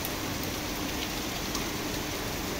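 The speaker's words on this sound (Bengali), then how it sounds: "বাইরে প্রচণ্ড বৃষ্টি" Heavy rain pours outside a home balcony with potted plants, a dense, constant rushing hiss that fills the whole stretch without any talking.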